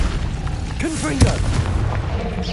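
Confringo fire spell blast in the wizarding game Hogwarts Legacy, a single sharp bursting boom amid combat clatter, with a brief voice heard over the fight.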